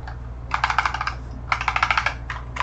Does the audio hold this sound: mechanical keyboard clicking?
yes